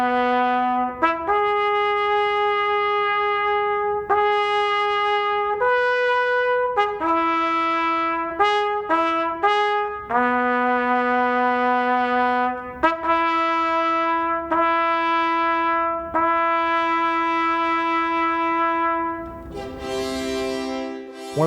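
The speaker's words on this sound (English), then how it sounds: "He wrote a piece called Capriccio Italian, and in the beginning of this piece, he writes for the trumpet" A solo trumpet plays the opening fanfare of Tchaikovsky's Capriccio Italien, a series of clear sustained and repeated notes in a measured rhythm, bright and close with no voices.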